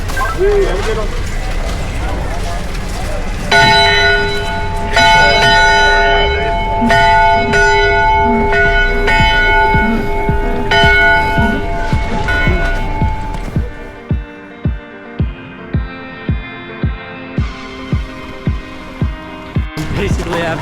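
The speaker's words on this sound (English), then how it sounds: "Go ahead and ring the bell." A bell rung repeatedly at a ski area on Schweitzer Mountain, Idaho, clanging loudly with a ringing sustained tone, then quicker evenly spaced strikes toward the end, with people talking over it.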